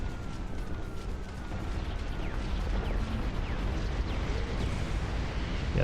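Bombs dropping and exploding in the RTS game Dust Front, a dense continuous rumble of blasts and battlefield noise with faint descending whistles, loud and unbroken throughout.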